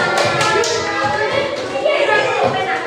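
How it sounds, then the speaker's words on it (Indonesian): A classroom of students claps together after finishing a task, a steady patter of hand claps running throughout with children's voices mixed in. "Tepuk tangan untuk kita semua."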